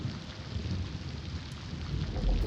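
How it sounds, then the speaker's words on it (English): Heavy rain in a thunderstorm, a steady dense hiss of downpour with a low rumbling swell toward the end, continuous and fairly close with no voices. "listening to the rain come down in heavy sheets"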